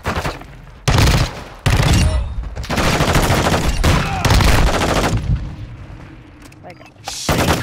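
Call of Duty video game pistol gunfire: loud bursts of rapid, close shots that come in several separated volleys, with faint gameplay sounds between them.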